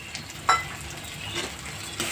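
Onion fries in a pan with chili-mustard paste and roasted cumin powder, a soft steady sizzle with a few stirring scrapes, close but quiet and with no talking.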